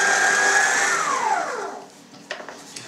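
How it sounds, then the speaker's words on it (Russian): An electric mixer kneads sausage meat emulsion with pork fat, whirring loudly and steadily, then its pitch sweeps down as it winds off, leaving a few faint clatters. "Запускаем миксер и вымешиваем где-то в течение 5 минут."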